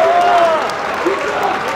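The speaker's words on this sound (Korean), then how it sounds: "두 선수의 파이팅에 관중들도 많은 박수를 보내주고 있습니다" A crowd at a professional boxing match in Busan applauds the fighters during the final round, a steady wash of clapping running under an excited commentator's voice.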